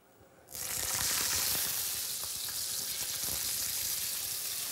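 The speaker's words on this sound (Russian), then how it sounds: "И начинаем обжаривать нашу рыбку" Fish hits hot oil in a pan with a sudden, loud hiss that holds as a steady, close sizzle, broken by faint crackles and pops.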